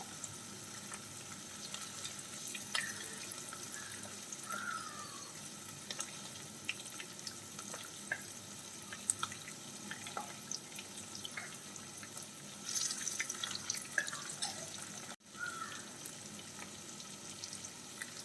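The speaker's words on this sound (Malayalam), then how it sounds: "അപ്പോൾ നമ്മൾ എല്ലാ മീനും എണ്ണയിലേക്ക് ഇട്ട് കൊടുത്തിട്ടുണ്ട്." Fish pieces for a cutlet frying in oil, a steady close hiss and crackle of hot oil with scattered small pops throughout, briefly louder near the end.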